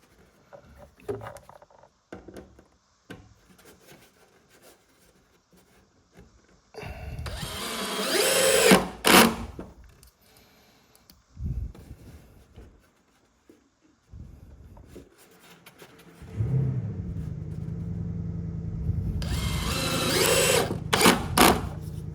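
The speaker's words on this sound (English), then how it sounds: "We can drill that." A power drill whirs in several bursts, a short spin, then longer runs with a low grinding tone, separated by quiet handling noises.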